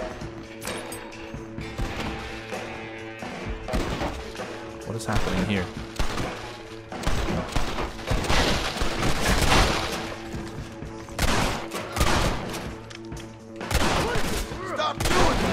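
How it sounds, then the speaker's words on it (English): Gunfire in the Western video game Red Dead Redemption: repeated shots and bursts crack and boom in uneven clusters, loud and layered over game noise, while someone speaks briefly amid the shooting. "there is gunfire happening."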